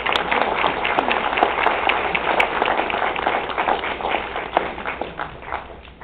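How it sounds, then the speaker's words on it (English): Audience at a high school hall of fame induction ceremony applauding steadily, a dense even patter of many hands clapping alone at moderate loudness. "Let's give Keith a big round of applause."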